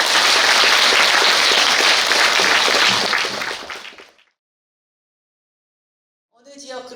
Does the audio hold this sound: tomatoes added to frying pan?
no